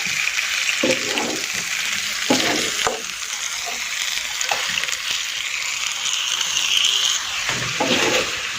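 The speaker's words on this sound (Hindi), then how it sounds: "बहुत ही ज़बरदस्त जो है ना हमारा टिक्का बोटी तवे पे जो है ना बनने वाली है।" Tikka boti meat fries on a flat tawa griddle with a loud, constant sizzling hiss, broken by several scraping and clattering strokes of a spatula moving the pieces around, close and without talk.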